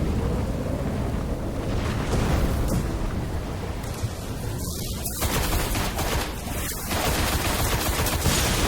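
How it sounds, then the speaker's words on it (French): Enemy gunfire rattles in the video game Destiny as dense, continuous bursts of shots with sharp cracks, loud and close, mixed with a rumbling battle din. "On me tire derrière, je sais."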